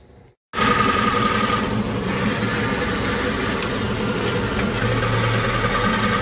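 A 2012 Chevrolet Avalanche engine starts after a short silence and then idles steadily and close, a dense rumbling drone with a rough, gritty noise from underneath the vehicle.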